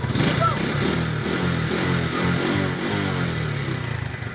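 A Honda Flex 125 FI motorcycle engine runs steadily nearby with a rough, even drone that rises slightly, while someone talks over it the whole time.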